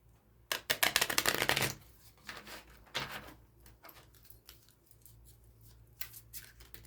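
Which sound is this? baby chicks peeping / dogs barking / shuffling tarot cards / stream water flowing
shuffling tarot cards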